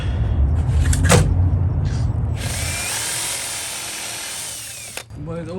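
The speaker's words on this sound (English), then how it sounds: "so now it's time to drill a hole here" Power drill bores a hole in a Ford F-350 truck bed for a smart lock install: a sharp burst of drilling, then a long steady whine, close and loud, with brief clatter and a voice at the end.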